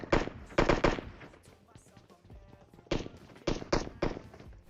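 Shots ring out in the video game PUBG Mobile in a military area where players carry Desert Eagle pistols, coming as several sharp clusters of loud, rapid reports separated by quieter gaps with faint background noise.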